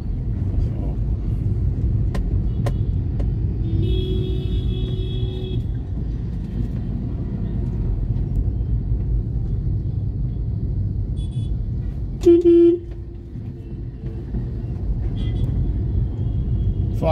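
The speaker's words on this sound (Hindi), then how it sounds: "सुबह का वक्त है, इंदिरा नगर साइड और एमजी रोड सिटी साइड में जाने के लिए काफी ट्रैफिक रहता है" Morning road traffic in Bangalore, India, near Indiranagar and MG Road: a steady, loud, continuous rumble of cars and other vehicles, with a short sharp horn blast about two-thirds of the way through and fainter tones earlier.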